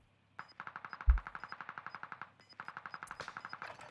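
Rapid automatic gunfire from a video game, Warzone Caldera, crackling in two long bursts of evenly spaced shots with a short pause between, fairly loud and close, with no talking.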